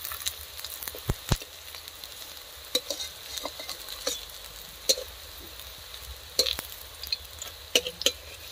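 Drumstick flower fritters frying in hot oil give a steady soft sizzle with scattered pops and crackles, close and fairly quiet, with no talking.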